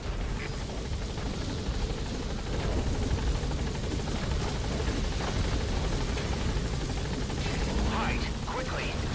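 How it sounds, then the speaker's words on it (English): A helicopter lands in the video game Metal Gear Solid V (The Phantom Pain), its rotor thumping and engine droning loud and constant throughout, with voices over the top. "Chopper's touching down."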